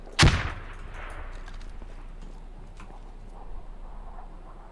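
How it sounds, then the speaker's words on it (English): A single sharp, heavy airstrike explosion in the military shooter game Squad bursts out right at the start, then trails into a low, rumbling ambience with faint distant cracks. "No, that was the airstrike."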